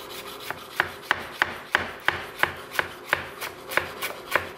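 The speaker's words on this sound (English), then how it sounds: "we're gonna mince this up real fine" A knife chops basil finely on a cutting board in sharp, evenly spaced taps, about three a second, close and clear with no talk.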